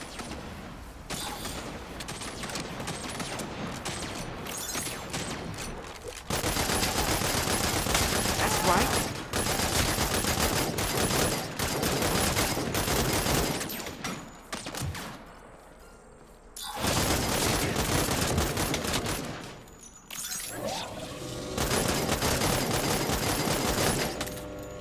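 A new gun fires in Saints Row in long, loud, continuous automatic bursts, several stretches of sustained shooting broken by short pauses, with faint voices at times.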